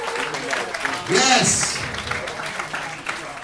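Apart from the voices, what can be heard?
comedy club audience applause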